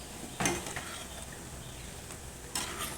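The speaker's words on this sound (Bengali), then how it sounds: "এইভাবে একটু আবার একটু নেড়ে রেডি কালো জিরে দিয়ে কুমড়ো।" A spatula scrapes through pumpkin frying with black cumin seeds in a pan, making two short stirring strokes over a faint, steady sizzle.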